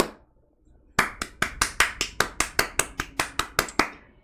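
A quick run of about sixteen hand claps comes in a steady, even rhythm after a short quiet start, each one crisp and close.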